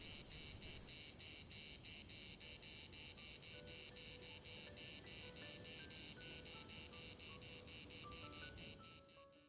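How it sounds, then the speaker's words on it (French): Cicadas buzz in loud, steady pulsed bursts on a summer day by the seaside marshes, a dense rhythmic drone repeating several times a second with no voices over it. "alors que les cigales sonnent le temps de la sieste."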